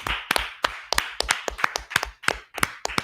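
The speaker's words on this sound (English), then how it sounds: "Clap it up for the class." A small group claps for a class at a religious gathering, about ten sharp, distinct bursts in an uneven rhythm, close and crisp with short gaps between them.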